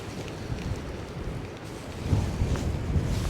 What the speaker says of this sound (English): Oh, there's that lovely wind.